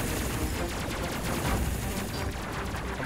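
Ship weapons fire continuously in the space combat game Space Crew, a dense, unbroken stream of rapid shots layered over a loud, steady roar.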